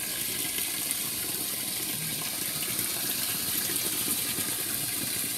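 A Whirlpool WTW5300SQ0 top-load washing machine fills with water through a single valve, a steady loud rush and splash of inflowing water running unbroken throughout with no voices.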